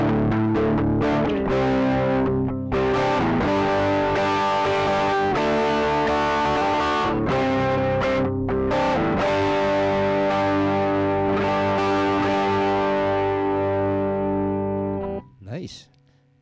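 Crunchy overdriven electric guitar through a Joyo Baatsin overdrive pedal: loud, close strummed chords and ringing notes played steadily, then a brief squealing swell as the playing fades at the end.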